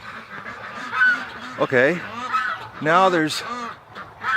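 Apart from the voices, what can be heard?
geese honking as they land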